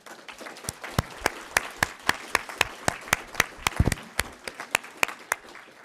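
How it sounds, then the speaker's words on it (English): Sparse applause at a graduation ceremony, with a handful of distinct, sharp claps in a loose, uneven rhythm that are close and fairly loud, with no other sound between them. "Give them a round of applause."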